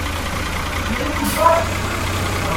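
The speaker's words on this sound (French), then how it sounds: "putain, il part dans tous les sens ce tracteur." Tractor engine in a farming video game, a steady low idling drone holding level under faint background talk.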